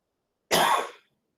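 A single sharp cough from one person, brief and close, standing alone against silence.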